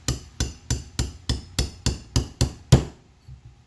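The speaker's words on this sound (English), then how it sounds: "Another method is you can get them started with a punch. Just lightly tap down with a hammer." A hammer strikes a punch on a brake pad pin of a Yamaha Seca XJ750 front brake nine times in a quick, even rhythm, close and sharp, metallic, the last blow heaviest, then quiet.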